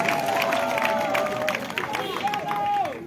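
A rally crowd claps and cheers in a broad, sustained wash of applause and murmuring voices, with whistles rising over the din throughout.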